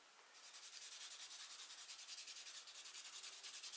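A file buffing fingernails makes a faint, quick, rhythmic rasping, a steady back-and-forth scrub of short strokes heard alone up close.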